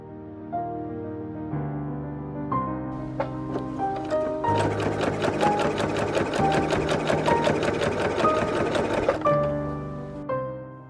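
A sewing machine stitches a fabric skirt in a fast, close run of rapid needle clatter lasting several seconds, with slower starting and stopping stitches on either side and music playing underneath.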